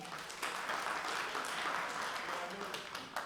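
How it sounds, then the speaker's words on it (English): Steady clapping from an auditorium audience at a big band concert, dense and continuous for a few seconds, with voices mixed into the noise. "Clap if you did not see us at the pavilion."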